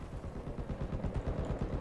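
Rapid gunfire in a Battlefield 4 multiplayer match, a dense rattling burst of shots that keeps up evenly through the whole moment.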